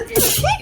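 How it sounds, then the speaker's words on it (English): A single short, sharp sneeze, close and loud, with a quick burst of breath. "And then I sneezed."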